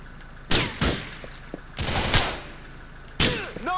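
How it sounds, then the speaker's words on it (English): Gunfire in the crime game GTA IV, loud separated bursts of shots at irregular intervals, each a sharp crack with a short tail. "Why did you wait till just now to start shooting me?"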